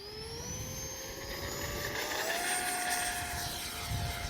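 Arrows RC F-86 64mm electric ducted-fan jet flying in wind, a steady whining whoosh with a slowly rising pitch as it passes overhead, heard at moderate distance with wind rumble beneath.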